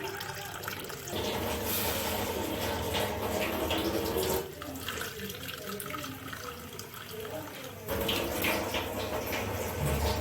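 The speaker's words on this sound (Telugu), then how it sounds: "ఈ కప్పుతో నేను 2 కప్పుల వాటర్ అయితే యాడ్ చేస్తాను" Water poured from a cup into a pot of sago for cooking, a steady splashing pour that runs in bursts with short breaks between, fairly close and moderately loud.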